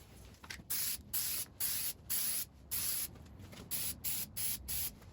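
An aerosol can of Plasti Dip sprays a wet coat onto a car emblem: about a dozen short, loud hissing bursts in a steady rhythm, close up, with no voices.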